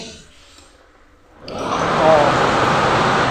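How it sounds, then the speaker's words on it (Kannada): A steady broadband whoosh of an air cooler's fan starts abruptly after a quiet moment and keeps running loud and even to the end. "ಈಗ ಕೂಲರ್ನ ಆನ್ ಮಾಡಿ ನೋಡುವ ಹೇಗೆ ಗಾಳಿ ಚೆನ್ನಾಗಿ ಬರುತ್ತೆ ಅಂತ ಹೇಳಿ"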